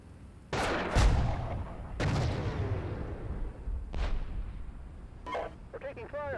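Heavy booming shots from tanks and infantry gunfire in a military simulation game of a Russian assault on Narva, Estonia, come as a few loud, spaced blasts with long rumbling decays, and a voice breaks in near the end.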